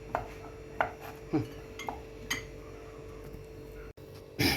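A knife taps sharply on a cutting board several times in an uneven rhythm while chopping sausages, with faint clinks, ending in a louder clatter.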